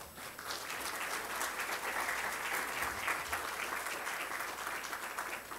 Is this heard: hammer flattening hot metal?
no